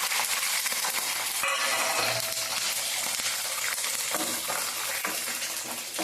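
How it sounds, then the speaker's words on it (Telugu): Peanuts with dried and green chillies fry in hot oil for a tempering, giving a steady, loud, dense sizzle and crackle with faint stirring scrapes throughout. "శనక్కాయ గుళ్ళు వేగుతూ ఉంటాయి"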